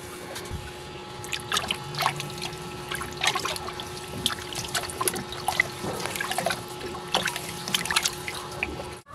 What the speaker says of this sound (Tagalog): hugasan ko muna sa tubig itong ating ham